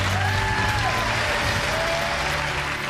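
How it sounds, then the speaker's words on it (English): Studio audience on a BBC gameshow cheering and applauding a departing contestant, a loud, steady wash of clapping and whoops throughout with faint musical tones underneath. "Cheer for Nick."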